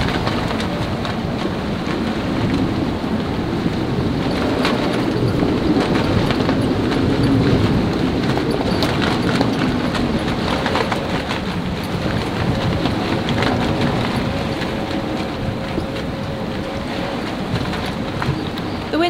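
Steady heavy rain from a thunderstorm roars throughout at sea on a sailboat, with a deep rumbling undertone like distant thunder rolling under the downpour, continuous and fairly loud.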